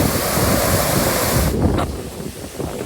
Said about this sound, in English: It feels like you can't escape the sound of water here.